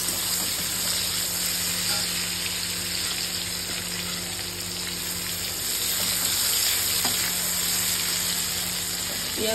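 Thickly cut onions frying in a pan after potato slices, a steady hiss of sizzling oil that holds even and continuous throughout, with a constant faint hum and tones beneath.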